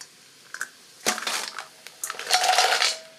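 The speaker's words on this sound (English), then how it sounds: "I'm going to dump in our mussels." Mussels tumble into a hot, sizzling pan, giving a clattering rattle of shells in two bursts over a steady frying hiss, close and fairly loud.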